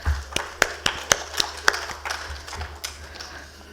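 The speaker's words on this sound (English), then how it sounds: "please welcome our distinguished panel with a round of applause" Sparse clapping from a small audience at an industry conference as a panel is welcomed: about eight distinct sharp claps in an uneven rhythm over a low hum, then a quieter stretch.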